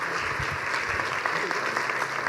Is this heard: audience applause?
yes